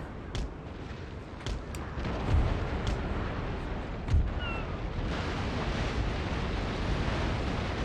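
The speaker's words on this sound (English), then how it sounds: "that's a full broadside" Naval cannon fire thuds out in a broadside from a sailing warship in the Napoleon: Total War battle, several deep booms spread over a few seconds above a constant roar of sea and wind ambience.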